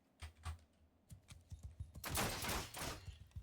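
A volley of arrows from archers in Mount & Blade II: Bannerlord whooshes out in a dense rush, preceded by a rapid series of clicking, thudding releases.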